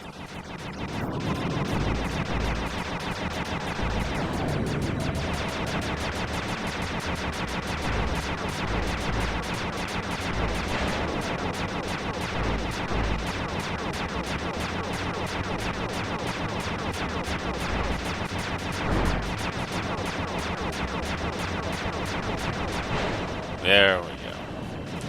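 Dense, continuous gunfire with bouncing ammo in a video game, a steady rattling barrage that runs the whole time, with a sharper burst near the end.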